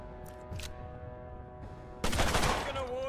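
Gunfire from the video game Mutant Year Zero: Road to Eden, with a loud burst of rapid shots arriving near the end after quieter game sounds.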